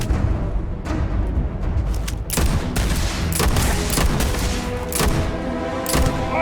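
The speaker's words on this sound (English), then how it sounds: "might as well bring out the big guns now." Repeated gunfire from heavy weapons in the space shooter video game Starfield, a dense, continuous barrage of loud bursts and booms with sharp individual shots standing out throughout.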